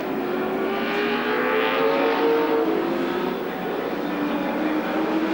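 A 1986 touring car at Sandown during the Castrol 500 race, its engine winding up hard in 4th gear on the uphill back straight, a loud sustained rising roar heard from onboard for several seconds.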